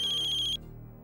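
A telephone rings unanswered, a steady electronic ringtone that cuts off after about half a second, leaving a quiet low room hum.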